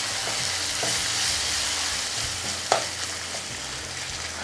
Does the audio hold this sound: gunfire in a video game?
no